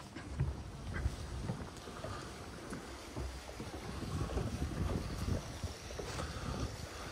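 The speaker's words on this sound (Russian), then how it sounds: "Звук журчащей воды — это тоже прекрасно, я считаю." Water babbles steadily in Galitsky Park in Krasnodar, a soft, even rush mixed with gusts of wind buffeting the microphone and no voices.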